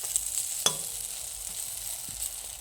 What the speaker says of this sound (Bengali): আলু ভাজা কাটতে কাটতে আমার এদিকে বেগুন ভাজা পড়ে গেছে